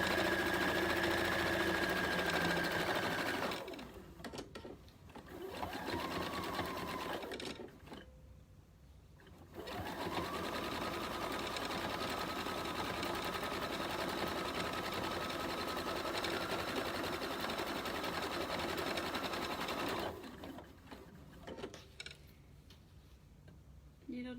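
A sewing machine stitches a placemat and sweatshirt together into a pillow, running in a steady fast mechanical hum that stops briefly twice as the needle is set down and the fabric turned, then resumes at the same pace.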